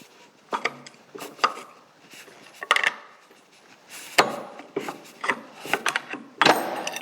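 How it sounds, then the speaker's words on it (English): A snap ring drops off a 1967 John Deere 710 counter shaft during removal, amid a scattered series of sharp metallic clinks, knocks and scrapes from close-up shop work, with no talking. "That was the snap ring. I heard something fall."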